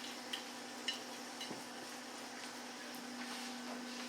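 Fry bread dough frying in hot oil seasoned with minced jalapeños, a steady soft sizzle holding at low level with a couple of faint clinks early on and no talking.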